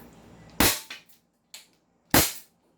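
Staccato 2011 3.8 replica pistol fires three sharp, loud cracks, spaced unevenly a second or so apart, with a quieter click between them.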